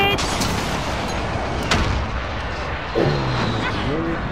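Precision airstrike explosions in Call of Duty Modern Warfare multiplayer, a dense roar of blasts and gunfire with a sharp burst near the middle, followed by a whooshing flyover sweep, all loud and continuous.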